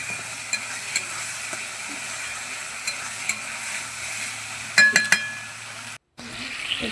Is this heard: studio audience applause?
no